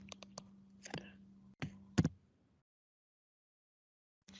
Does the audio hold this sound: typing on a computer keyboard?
yes